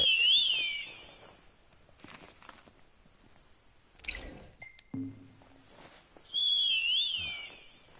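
In Final Fantasy XV, an enemy summon whistle sounds as two bright, warbling whistle calls, one at the start and one near the end, with footsteps and brief game effects in between.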